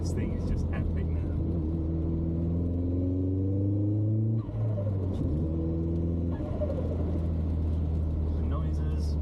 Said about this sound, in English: The actual car just feels great to drive, better than stock